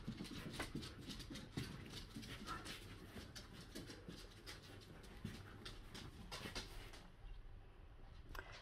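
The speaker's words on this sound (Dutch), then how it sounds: "En dan gaat de buurman weer een loopje doen met zijn hondje." A small dog panting quickly and steadily while out on a walk, the rapid breaths fairly faint and continuous against a noisy outdoor background.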